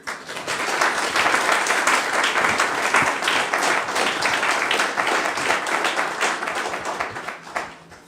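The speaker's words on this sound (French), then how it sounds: "Margarida Duhart, vous pouvez applaudir." Applause fills a municipal council installation session in Houilles as a member is congratulated, a dense, steady wash of many hands clapping close by, sustained for several seconds before tapering off at the end.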